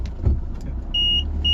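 A Maruti Swift diesel AMT car sits running close by during parking, a low steady engine rumble with a short bump and thin electronic tones near the end.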